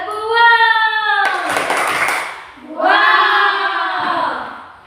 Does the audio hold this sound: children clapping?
yes